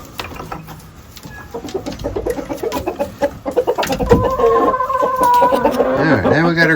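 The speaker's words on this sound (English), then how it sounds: "7 hens, 1 rooster" Seven hens and a rooster clucking and calling in a morning coop, the clucks rising from sparse to a busy, loud chorus with rising cackles toward the end; a person talks briefly in the background.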